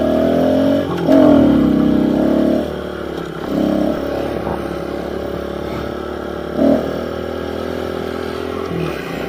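A pit bike dirt bike engine revs up and down nearby, rising in a few surges before settling into a steady idle-like drone.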